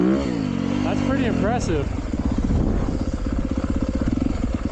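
Dirt bike engine idling along with the clutch fully out and no throttle, a steady mid-pitched drone that is close and continuous, with someone talking over it throughout.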